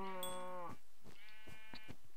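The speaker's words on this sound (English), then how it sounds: "That's a sheep, not a cow." A single drawn-out sheep bleat from a video game rings out close and clear, followed by a few faint, soft clicks and thuds in the quiet background with no voices.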